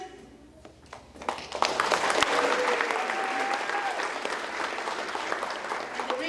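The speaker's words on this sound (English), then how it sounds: "a second round of applause, like y'all just gave them" At a board meeting, the crowd bursts into applause for girls' district champions, starting faint and swelling into loud, sustained clapping, with a voice and a few whoops rising above it.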